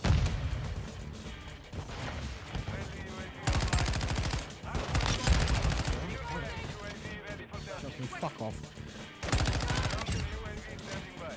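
Honeybadger rifle gunfire in a first-person shooter video game, dense repeated automatic bursts crackling loudly over game effects and music, with a player talking throughout.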